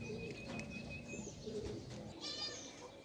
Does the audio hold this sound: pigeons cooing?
yes